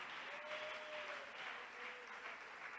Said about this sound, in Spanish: dele al Señor ese aplauso con más vida, con más vigor, con más poder